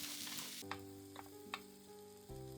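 Ketchup-flavoured rice for omurice fries in a pan with a soft, steady sizzle, broken by a few light clicks and stirring scrapes, with a low tonal hum running beneath.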